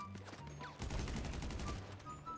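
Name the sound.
gunfire in the video game GTA V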